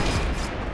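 Burst of gunfire in the online shooter Point Blank, a dense, loud rattle of rapid shots filling the whole short moment with no pause.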